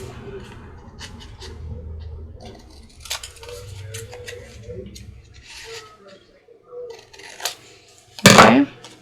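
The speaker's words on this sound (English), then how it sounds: "So I'm going to clip these corners here." Scissors clip the corners off paper ephemera with a few light snips and a louder final cut, close by. A person talks quietly through the snipping.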